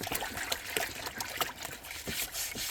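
Water trickles and dribbles softly while a gourd is scrubbed down in it, with faint irregular splashes and rubbing sounds close by, quiet and without speech.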